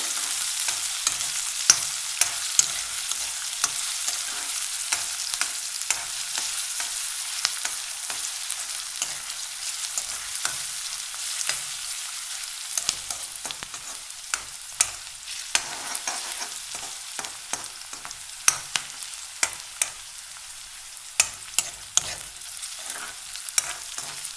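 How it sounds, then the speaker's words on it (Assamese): Chopped onions fry in a pan for a samosa filling, a continuous bright sizzle punctuated by frequent sharp scrapes and taps of a stirring spoon, close and steady with no voices. "লাহে লাহে এনেকৈ অকণমান ৰঙা হোৱালৈকে পিঁয়াজখিনি ভাজিব"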